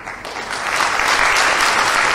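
An audience at a Tamil conference closing ceremony breaks into sustained clapping, building quickly to a dense, loud wash of applause that holds steady to the end with no talk.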